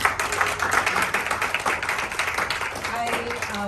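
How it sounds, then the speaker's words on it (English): An audience at an annual general meeting gives a short burst of applause, close, dense clapping that holds steady and fades slightly toward the end. "please give them a round of applause"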